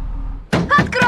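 A door opening in a horror video game, a short thud at the start of a wooden door swinging, then game voices talking right over it.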